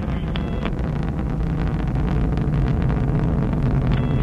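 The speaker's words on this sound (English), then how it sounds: "the solid rocket motors are increasing their thrust during their 75-second burn" Solid rocket motors of a Delta II launch vehicle burn during the Opportunity Mars rover launch from Cape Canaveral, a steady, dense broadband roar with low rumble and wind-like buffeting throughout, no voices.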